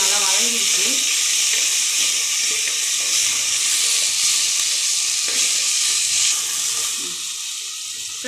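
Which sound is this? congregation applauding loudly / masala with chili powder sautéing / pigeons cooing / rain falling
masala with chili powder sautéing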